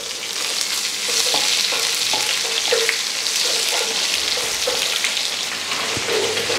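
Mustard seeds, dried red chillies and curry leaves frying in hot oil as a tempering for pineapple kichadi, a loud, steady crackling sizzle with scattered pops and spatters throughout, no voices.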